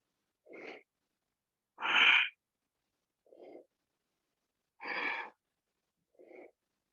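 Forceful breathing during a core exercise: five short bursts of air in an alternating pattern, with sharp, strong exhales interleaved with softer, quieter breaths, close and clear with no talk.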